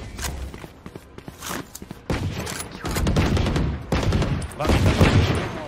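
Gunfire in the tactical shooter Valorant, with several sharp shots and short bursts ringing out over footstep thuds. The firing grows denser and louder toward the end, with a faint voice in the background.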